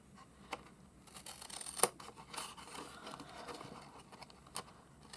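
Scissors cutting along the fold of a cardboard snack box, faint close snips and crunching cuts, with one sharper snap partway through and scattered rustling in a quiet room.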